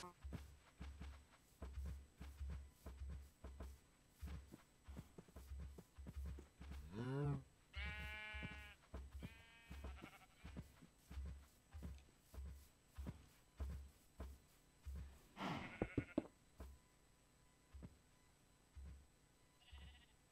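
Sheep in the video game Minecraft bleat a few times in wavering, nasal calls. The bleats sit over a steady rhythmic thumping that runs through the whole stretch.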